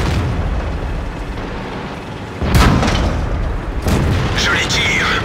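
A tank cannon fires in World of Tanks during an Object 140 battle, producing heavy booming blasts over continuous rumbling engine and battle noise, with another loud boom about a second later.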